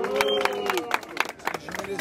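A rap battle crowd at Batalha do Coliseu cheers for Kroy, with a dense burst of claps, shouts and crowd noise that rises and falls over two seconds, a voice carrying over it.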